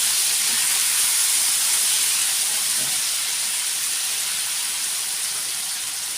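Rava dosa batter poured in a round onto a hot griddle at a street cart, hissing in a steady, close sizzle that slowly eases off.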